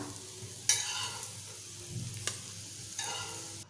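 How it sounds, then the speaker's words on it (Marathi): Potato slices coated in semolina fry in oil, Malvani style, with a steady soft sizzle and a few sharp clinks or scrapes, near and without talk. "आपले या ठिकाणी बटाट्याचे कापं फ्राय झालेले आहे"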